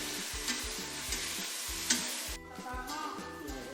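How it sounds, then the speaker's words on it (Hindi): Tempering spices sizzle steadily in hot oil, a loud crackling hiss, with a spoon stirring and scraping the pan in a regular rhythm. "ये तड़का लगा दिया है।"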